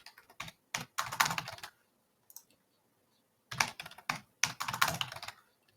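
Bursts of rapid key clicks on a computer keyboard as a new password is typed, two clusters of quick taps separated by a pause, close and clear with no talking.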